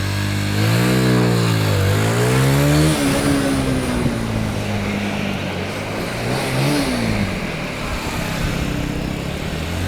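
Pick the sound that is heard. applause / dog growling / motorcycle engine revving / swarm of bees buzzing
motorcycle engine revving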